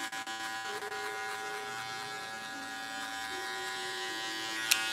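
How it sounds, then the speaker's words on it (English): An electric hair clipper buzzes steadily while cutting straight hair for a fade, a close, continuous motor whine with slight pitch shifts as it moves over the head, ending in a brief sharp click. "Remember to utilise the corners of the clipper"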